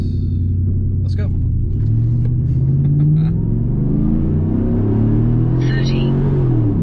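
A stock 5.3 V8 six-speed truck accelerates hard from inside the cab, its engine note climbing through the gears in loud rising sweeps with brief shift dips, while voices speak over it.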